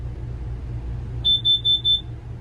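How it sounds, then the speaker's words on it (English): Four quick high-pitched electronic beeps sound in a row over a low steady hum, moderately loud and evenly spaced. "About every 3 or 4 seconds, 4 beeps."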